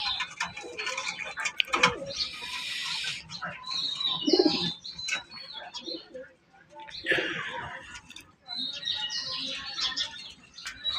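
Pigeons kept in a loft, some with eggs and chicks, call and chirp in bursts close by while people talk over them.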